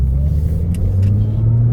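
A 2008 Porsche Cayman 2.7 engine rumbles at close range with a strong, steady low-pitched throb and a slight lift in revs, alone with no talk.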